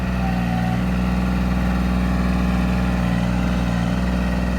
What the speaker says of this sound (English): Let the tractor do the work.